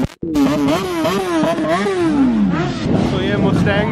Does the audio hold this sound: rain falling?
no